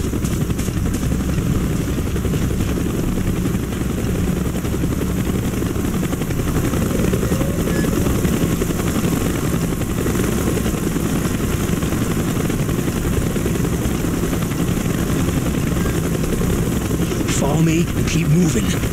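A helicopter in the Call of Duty Black Ops video game drones as a steady low rotor and engine rumble that runs throughout, with a brief clatter near the end, while voices talk over it.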